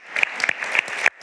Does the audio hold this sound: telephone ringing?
no